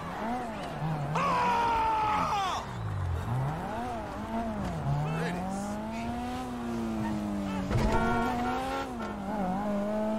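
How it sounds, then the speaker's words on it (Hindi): A car drives in GTA 5, its engine droning and rising and falling in pitch as it revs and shifts, with a brief tire squeal and a thud partway through, played fairly loud throughout. "ये गाड़ी बहुत अच्छी है।"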